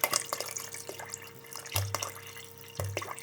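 Water poured from a glass into a pot of mutton pieces for pulao, giving a close, trickling splash with two brief louder gushes, then settling drips.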